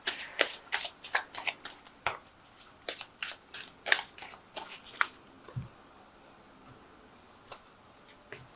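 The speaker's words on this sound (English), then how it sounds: "Now I have shuffled this deck." A deck of tarot cards is shuffled in quick riffling bursts and soft taps, busy at first and thinning out toward the end, with no talking.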